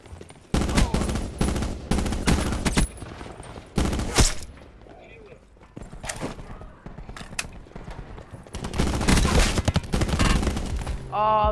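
Gunfire in the Call of Duty Blackout video game, sharp loud bursts and volleys recurring through the stretch alongside in-game noise, with players talking over parts of it.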